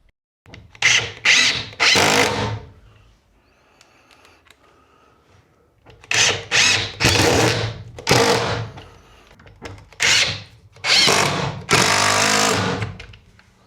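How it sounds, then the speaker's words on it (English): An impact driver fires in loud, rattling bursts, several short runs separated by pauses, close by with no talking. "That's the noise an impact wrench makes."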